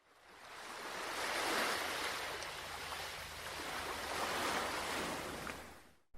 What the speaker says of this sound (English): Water is the sound heard when near the shoreline in-game